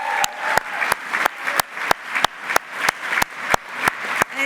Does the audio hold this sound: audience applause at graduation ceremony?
yes